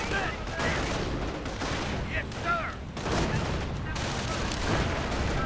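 Mortar and grenade fire in a World War II style strategy video game, a dense, rumbling battle of thuds and blasts with some sharper pops, continuous under a voice talking throughout.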